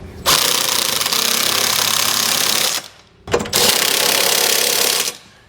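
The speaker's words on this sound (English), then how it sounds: "We'll use a 3/4 inch socket, tighten all of our hardware." Impact wrench with a 3/4 inch socket tightening trailer hitch bolts on a 2020 Chrysler Pacifica, two loud close rattling bursts separated by a short pause.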